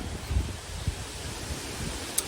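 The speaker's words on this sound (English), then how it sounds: "come on, wind. Give me a break." Wind gusts buffet the microphone outdoors, a steady rushing roar with low rumbling thumps and rustling for a couple of seconds, and no speech.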